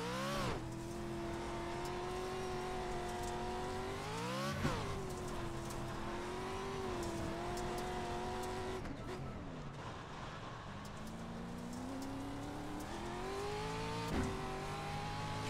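Race car engine held at full throttle in iRacing on the Crandon track, a loud, steady, high-pitched drone with a couple of brief pitch dips from gear changes or lifts, continuous and close throughout with no talk.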